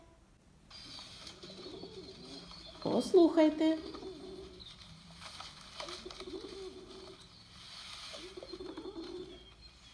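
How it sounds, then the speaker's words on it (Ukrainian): Pigeons coo a few times in soft, low, throaty phrases, with a voice speaking briefly in between. "Голубі воркотять."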